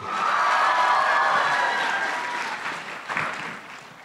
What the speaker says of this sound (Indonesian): Mohon berikan tepuk tangan untuk Ustaz Dasat Latif.